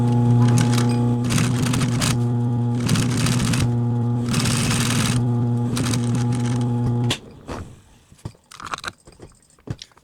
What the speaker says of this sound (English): we're going to sew all the way around